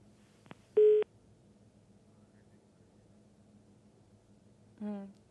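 Telephone line tones from a failed phone connection: a brief click, then a steady electronic beep, a pause of low line hiss, and a second buzzy tone near the end, all faint and without voices.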